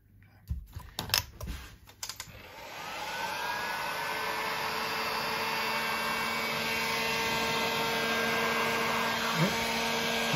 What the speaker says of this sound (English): Shrink tubing gun, heat gun, more stuff to tidy up with.